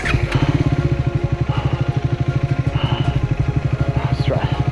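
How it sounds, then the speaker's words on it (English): A motorcycle idling or running at low revs on a ride toward a remote village in northern Thailand, a loud close rhythmic engine thrum with faint chirps above it. "Okay, we're on top of the bike."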